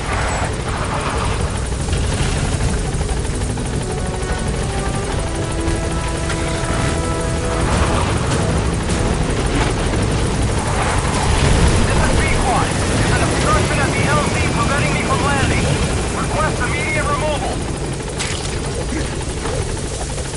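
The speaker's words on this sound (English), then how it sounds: "Support helicopter requested." A video game support helicopter arrives with a steady, loud rotor whir and engine drone throughout, while radio-style voices talk over it.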